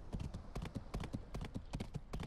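Horse hooves gallop in the Ylands video game, a quick, steady clip-clop rhythm of close, loud hoofbeats repeating throughout.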